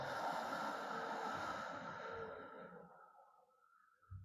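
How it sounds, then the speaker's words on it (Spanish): A long, slow exhale through the mouth during a guided relaxation breathing exercise, a breathy rush that starts full and fades gradually into quiet over about three seconds, heard alone without talk. "Una vez más, inhalas y exhalas por la boca."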